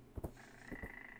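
A large frog croaks in the Feral animal-simulation video game, two short low croaks followed by a softer pair, faint and alone with a steady ambient tone beneath.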